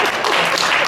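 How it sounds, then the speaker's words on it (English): A fraternity event crowd at the University of Nebraska, Lincoln breaks into dense, loud applause, a brief wash of many hands clapping at once. "And give a big round of applause."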